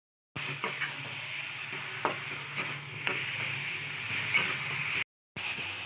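Coconut laddu mixture stirred in a pan, with repeated soft scraping and knocking of the spoon against the pan over a faint sizzle, and a brief gap near the end.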